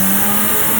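A turbocharged Jeep Wrangler engine revs steadily at close range, a sustained mechanical drone with no pauses or voices over it.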